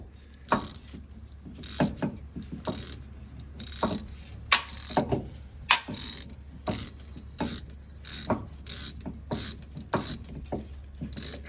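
Brake caliper piston being compressed with a tool on the rear brakes of a 2023 Toyota Tundra: a string of close, sharp ratcheting clicks and metallic clacks in uneven bursts, with no talk.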